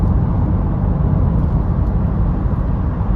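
2021 Vauxhall Astra Estate with a 1.2 engine cruising in sixth gear at about 60 mph and 2,000 revs, heard from inside as a loud, steady road and engine drone.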